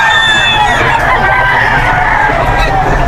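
Young roosters (stags) at the Bocaue pet market crow loudly and close, their strained, overlapping calls ringing out over a busy market din.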